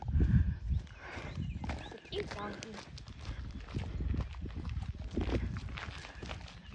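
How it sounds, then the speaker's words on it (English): An old donkey walking along a rural trail through farmland beside the New River, its hooves clip-clopping unevenly on the ground while a person talks nearby. "There's an old donkey."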